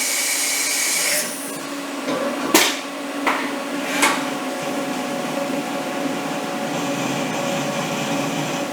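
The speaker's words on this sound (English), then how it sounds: "And now it's going to do the rigid tap" CNC mill running a rigid tapping cycle after a chamfer, a steady machine whine with sharp clunks and spindle stops and reversals, heard alone and close.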